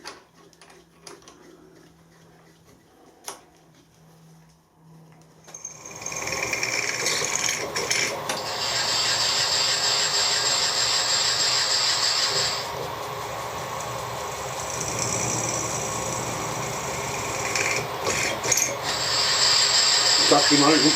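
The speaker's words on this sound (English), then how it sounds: "just actually managing to drill a triangular hole" After a few quiet seconds, a power drill starts up and grinds steadily through a tree trunk, drilling a triangular hole, loud and close, with brief changes in load.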